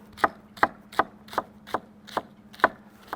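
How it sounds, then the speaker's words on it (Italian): A kitchen knife slices an artichoke thinly on a cutting board in eight crisp, evenly spaced cuts, close and clear against a low background hum. "poi taglio a metà e continuiamo anche questo a tagliarlo sottile"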